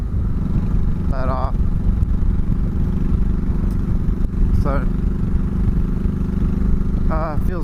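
Steady engine drone and wind rush from a 2004 Honda Sabre 1100 motorcycle cruising along, close and continuous, with a rider talking over it throughout.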